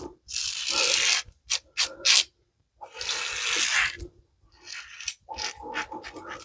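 A razor scrapes across nine days of facial stubble on the first pass with the grain. Raspy strokes come close up in bursts, with longer sweeps and short quick flicks between brief silences.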